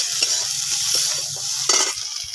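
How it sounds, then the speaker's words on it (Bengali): A spatula stirs turmeric, salt and fried ground paste in a frying pan for a spinach curry, giving a steady close sizzle with repeated scraping strokes and no talk. "এগুলো ভালো করে নেড়ে নেব।"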